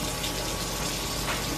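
Water pours steadily into a container to make cocoa, a continuous dense gushing rush that stays even throughout.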